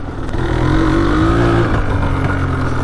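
A Yamaha Blaster ATV engine revs hard under a rider pushing it, giving a loud, close, buzzing drone that rises in pitch, holds, and then dips as the throttle eases.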